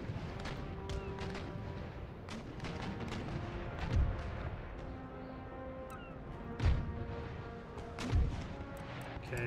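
Naval cannon round shot fired at point-blank range in an Empire Total War sea battle: three heavy booming reports spaced a couple of seconds apart over a steady bed of ambient battle noise and distant crackling fire.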